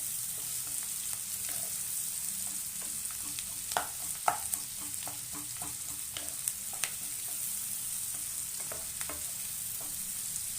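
Onions fry in ghee in a pan for chicken ghee roast, giving a steady bright sizzle with a few louder clinks and scrapes of stirring scattered through the middle.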